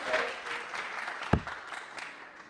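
Quiet applause from an audience at a darts event, a steady patter of clapping with one sharper clap standing out midway.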